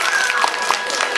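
Applause from an audience at an animal theater show on an ecological farm, rewarding a performing animal named Xiaohuang; a steady, dense wash of clapping through the whole moment, fairly loud and near, with no talk over it.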